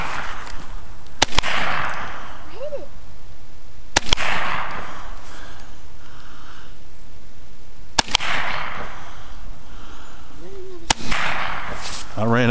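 Four sharp shotgun blasts ring out during a turkey hunt, spaced a few seconds apart outdoors, each loud crack followed by a short echo, with quiet voices between shots.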